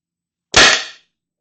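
A Tippmann TiPX paintball pistol in stock configuration fires a single cheap paintball, a sharp loud close pop with a short fading tail, otherwise silent.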